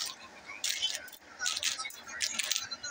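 A pile of peso coins is counted and dropped by hand, giving repeated clinking, jangling bursts of metal on metal at close range.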